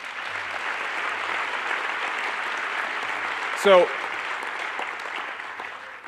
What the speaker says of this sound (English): So let's give them a hand.